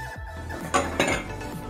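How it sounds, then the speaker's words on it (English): Spatula scraping down the sides of a blender jar of homemade buttercream icing, giving a few close, loud scraping and clattering strokes with short pauses between them. "Next, I'm just gonna get a spatula and scrape down the sides and also scrape down the blender."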